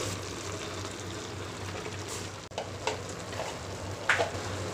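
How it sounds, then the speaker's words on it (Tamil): Brown onion and half-cooked rice stir in a hot pan for Hyderabadi chicken dum biryani, giving a steady low sizzle with a few sharp spoon scrapes and clinks, heard close with no talking. "ஒரு வெங்காயத்தில் செஞ்ச ப்ரௌன் ஆனியன் சேர்த்து ஒரு நிமிஷம் சமைச்சுக்கோங்க"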